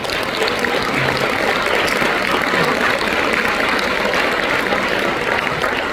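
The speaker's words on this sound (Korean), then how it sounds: "임원분들 격려의 박수" A ballroom crowd at a Korean regional association's year-end gathering in a Seoul hotel applauds its president and officers, a dense, even wash of clapping that continues steadily without pause.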